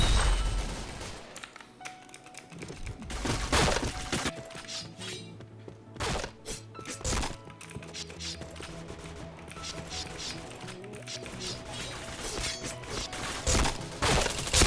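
Rapid bursts of gunfire from the Point Blank online shooter, with dense repeated shots, impacts and crashing hits layered throughout, loud and busy over game music, with a few short spoken calls in between.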